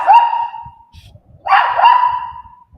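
A dog barks loudly indoors at home during a livestream, giving two long, drawn-out barks with a short pause between them and faint thumps underneath.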